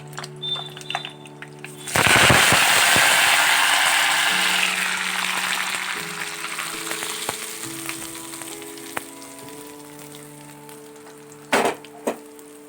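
Curry leaves splutter and crackle loudly in hot oil over fried dal, a sudden burst of dense sizzling that slowly settles into steady frying, with occasional light clinks of a spoon stirring the pan.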